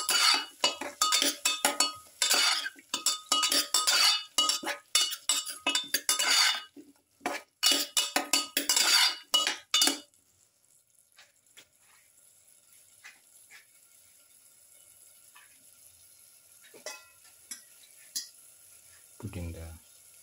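A utensil clinks and scrapes busily against a bowl while salt is mixed into a shrimp and carrot dish, loud and close for about ten seconds, then gives way to near silence with faint scattered ticks.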